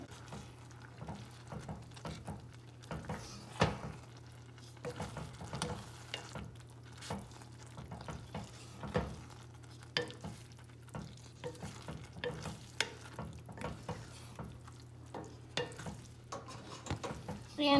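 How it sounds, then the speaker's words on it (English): Zucchini stirred into a hot pan of chicken and pasta, a steady quiet sizzle with repeated scraping and clacking of a utensil against the pan over a low hum. "I am going to take our zucchini and add it in there"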